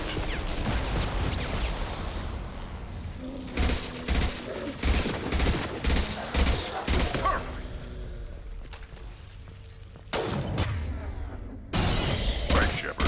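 Bursts of weapon fire from the Mass Effect 2 video game crackle in rapid volleys with whooshes and impacts, interrupted by short gaps, over a background of combat noise and occasional game voices.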